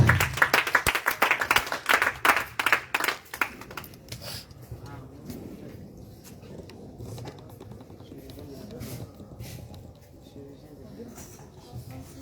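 A church congregation claps and acclaims, dense rapid applause loud at first, then thinning into softer scattered clapping and crowd murmur in a large room.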